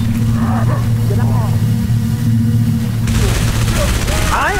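Gunfire in a Halo 3: ODST battle crackles in bursts over a deep rumble, and shots grow denser and brighter near the end.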